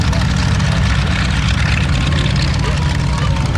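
A Hawker Hurricane Mark 1 fighter at an air display, its piston engine a steady low droning roar that holds loud and continuous throughout, with a commentator talking over it.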